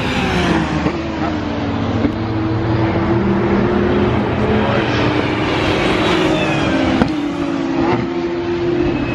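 Race cars speed past during a race in Modena, Italy, engines revving and rising and falling in pitch as they pass in sequence, loud and continuous beneath a busy crowd background.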